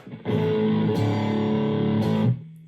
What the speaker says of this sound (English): It's a Boss distortion.